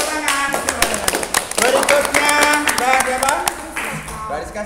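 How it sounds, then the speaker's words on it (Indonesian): A classroom of students claps together in a lively burst of many overlapping hand claps, close and loud, while a teacher speaks over it. "Oke, silakan dulu tepuk tangan."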